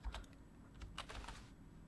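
Keys clacking on a computer keyboard in scattered bursts of taps at a moderate close distance, with no voices over them.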